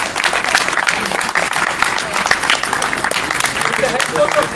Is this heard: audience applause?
yes